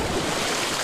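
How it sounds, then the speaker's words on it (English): Rushing flood water released through opened dam gates, a continuous loud broadband roar of churning water in a radio drama, steady throughout with no talk. "Here comes the water."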